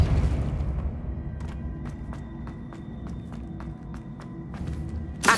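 The Depulso spell cast in Hogwarts Legacy comes through as soft game effects over a low ambient hum, with a regular series of light tapping footstep-like hits and a sharper burst at the very end.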